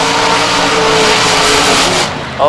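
Drag race car with a big block Chevy engine and '06 double chassis roaring loudly and steadily at a drag strip during spring nationals qualifying, the engine note dropping briefly near the end before surging again.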